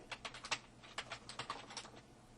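Quick, light clicks from a computer keyboard as a short word is typed, about a dozen crisp keystrokes in an uneven rhythm, close and quiet in an otherwise silent room.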